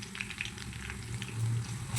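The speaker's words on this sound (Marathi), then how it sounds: "लसूणसुद्धा छान कच्चेपणा जाईपर्यंत आपल्याला तेलामध्ये भाजून घ्यायचं आहे." Garlic paste sizzles and fries steadily in hot oil after onions, for a Maharashtrian crab curry, a continuous close crackle with no talk.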